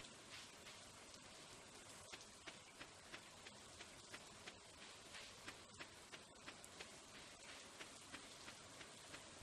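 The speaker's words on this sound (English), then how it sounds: "It's still raining." Rain falls quietly and steadily in Stardew Valley, a soft continuous patter overlaid with regular light taps like footsteps at a walking pace, faint overall and without voices.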